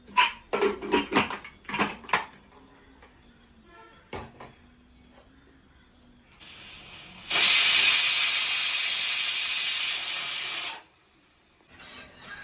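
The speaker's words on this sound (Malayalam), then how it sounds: "കുക്കറിൽ ഒരു വിസിലോ 2 വിസിലോ വന്ന് നമുക്ക് ഓഫാക്കാം." A pressure cooker cooking green mango rasam lets out a loud, sustained whistling hiss of steam for about three seconds, preceded by clinks of utensils and quieter kitchen sounds.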